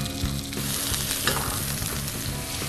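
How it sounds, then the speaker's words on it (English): Firm bananas frying slowly in a pan with butter and a sprinkle of sugar give a steady, close sizzle with crackling bursts and faint stirring sounds. "So once the bananas are sizzling and starting to brown a little bit"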